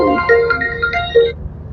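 A mobile phone rings with a short electronic melody of bright, stepped tones that plays for about a second and a half, then cuts off.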